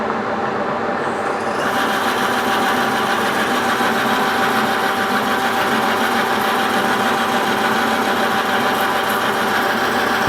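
Metal lathe under power feed cutting an alloy fillet radius, a loud continuous mechanical whir with steady tonal hum and fine rhythmic chatter, close and unbroken with no talking.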